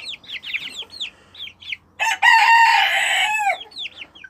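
Hens cluck in quick bursts, then a rooster crows loudly and at length close by before the clucking resumes.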